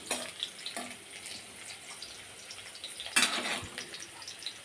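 Potatoes for a cabbage dish frying in a pan, a steady soft sizzle with a few clinks of utensils against the pan and a brief louder scrape partway through, no talking.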